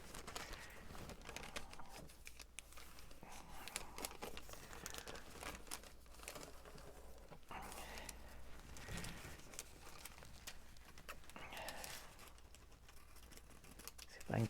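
Scissors snip through faux glassine paper amid crinkling and rustling, a busy close-up run of small cuts and paper handling with no talk.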